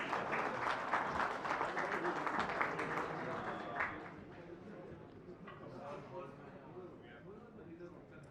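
Applause from an audience at an alumni fest in the NCR, loud and dense for about four seconds, then thinning into softer scattered clapping with murmuring voices underneath.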